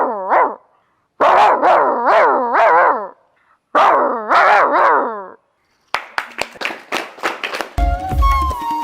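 A child imitates a dog barking, giving a string of voiced, yelping bark sounds in two close bursts, then a run of sharper clipped yips, ending in brief clattering noise.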